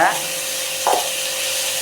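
Chopped onions and green chilies with turmeric and salt sauté in a hot pan, a steady close sizzle broken by a brief scrape of stirring.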